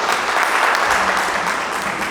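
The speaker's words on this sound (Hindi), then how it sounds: "जोरदार ताली।" Audience applause at a student speech competition, steady dense clapping from a seated crowd that holds at full strength for about two seconds with no voices over it.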